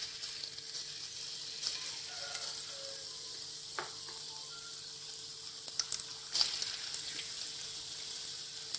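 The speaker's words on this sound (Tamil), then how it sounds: "நல்லா ஹீட் ஆனதுக்கப்புறம் ஒவ்வொரு இதாக போட்டுக்கலாம்" Sweet pakoda sizzles and fries in hot oil in a pan, a steady crackling hiss with a few sharper pops and stirring sounds, close by and without speech.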